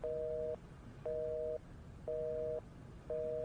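Telephone busy tone after a call is hung up: a steady two-pitch beep pulsing in regular half-second bursts with equal gaps, four repeats, clear and moderately loud.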